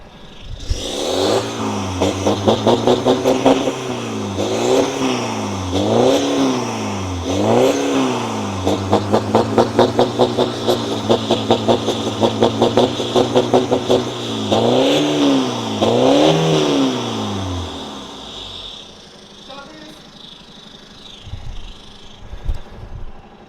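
A 1.6 diesel VW Jetta's engine revs repeatedly in quick rising and falling bursts, loud and close, with a throaty open valved exhaust before settling to idle.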